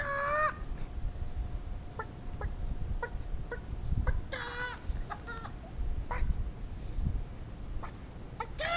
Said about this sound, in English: chickens belong on the lawn, bro